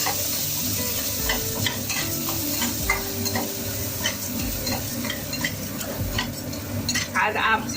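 Popcorn kernels being dry-roasted in a kadhai over a gas flame, with a spoon scraping and stirring them in a steady, close, continuous rustle and clatter.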